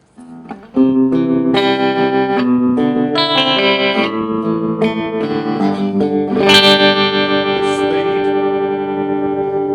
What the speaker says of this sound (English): Next we have some tremolo.